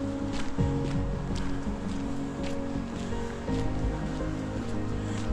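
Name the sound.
water flowing in park moat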